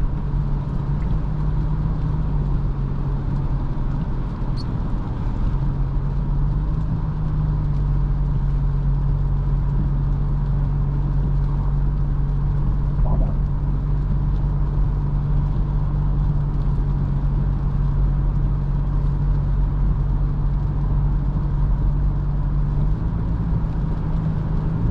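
Toyota Hilux 2.8 engine running steadily at moderate revs on a test drive, a smooth, even low hum held throughout with no voices.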